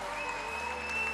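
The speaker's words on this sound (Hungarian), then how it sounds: "Nagyobb tapsot, gyerünk, gyerünk, nagyobbat, nagyobbat!" An audience at a Budapest cosplay show applauds in a steady, dense wash of clapping that fills the whole moment without pause, heard from within the hall.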